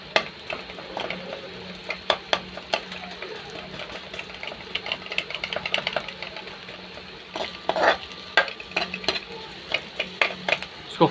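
Onions frying in oil in a pan for chilli Maggi noodles, giving a steady soft sizzle broken by frequent sharp scrapes and clicks of stirring, close and moderately loud, with no talking.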